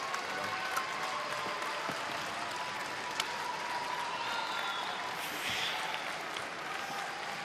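A home crowd applauds at a Scotland versus Switzerland men's match at the European Curling Championships, a steady wash of clapping heard from a distance in a large arena, with occasional sharper claps standing out.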